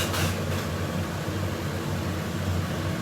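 A steady, broadband whooshing roar of a kitchen range hood fan running close by, with a low hum underneath and no pauses.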